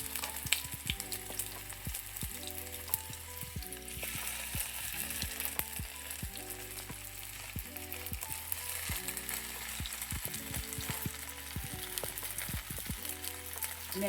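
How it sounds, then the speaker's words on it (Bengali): Store-bought onion rings frying in a shallow layer of oil, a steady dense sizzle and crackle that runs unbroken from start to finish, close and fairly loud with no voices. "এখন আমি অনিয়ন রিং ভাজছি।"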